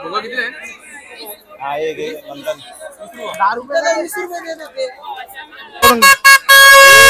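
Chatter and crowd noise at the Durgadi Navratri fair in Kalyan, then near the end a few short loud vehicle horn blasts followed by one long sustained honk.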